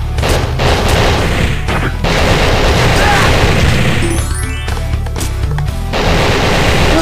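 Loud, dense game combat noise from Anger of Stick 5, with repeated crashing gunshot-like blasts and impacts running nearly continuously, plus a sweeping electronic effect partway through.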